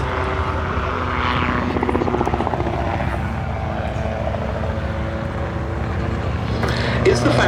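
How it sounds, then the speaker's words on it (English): An autogyro flies a display with a steady, loud, continuous rotor and engine drone that carries throughout, while a voice speaks over it. "as you watch the autogyro going through its"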